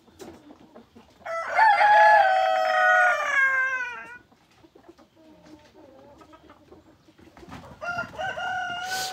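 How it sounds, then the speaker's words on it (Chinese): A village rooster in a rural Xishuangbanna yard crows loudly and close by in one long drawn-out call, followed by softer clucking and bird calls and the start of another crow at the end. "这鸡全是那个就是小雨和他表哥养的"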